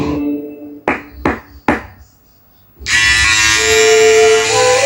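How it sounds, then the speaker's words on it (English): Philips OneBlade 360 electric shaver, preceded by a few sharp knocks, then a steady loud buzzing hum switches on and runs continuously for the last two seconds, close up with no speech. "One Blade 360. Trim, edge and shave."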